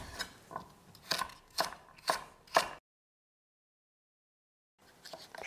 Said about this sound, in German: als erstes Mal schneiden wir einfach unser Gemüse in relativ gleich große Würfel